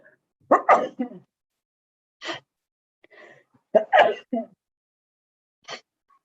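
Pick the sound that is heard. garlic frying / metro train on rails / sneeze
sneeze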